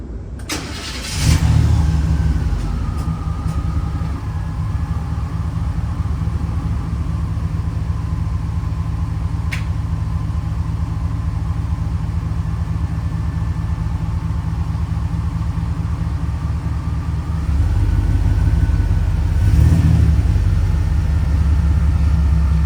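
A Chevy OBS pickup truck from the 1988–1998 run starts up and idles with a steady mid-pitched rumble for a long stretch, its engine rising into louder revving near the end, close by with nobody talking.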